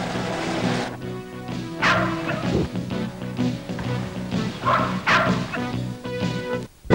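A mountain rescue search dog barks repeatedly after finding a casualty, a string of loud, close yapping barks with some whining between them, out in open country.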